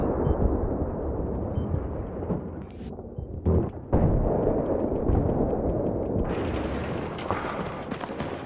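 RPG rocket explosions in Battlefield 3 boom through constant dense game noise, with two sharp blasts standing out briefly near the middle of the clip.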